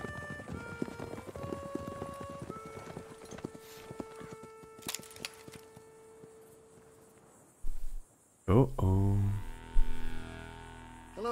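In Red Dead Redemption 2, the gang rides by on horseback with a steady clip-clop of hooves over background game music and ambience, and voices come in near the end.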